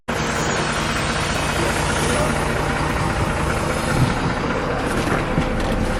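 A bus engine runs steadily at idle inside the vehicle, a continuous low rumble with road noise around it, moderately loud throughout on a cold, rainy day in Lauterbrunnen, Switzerland.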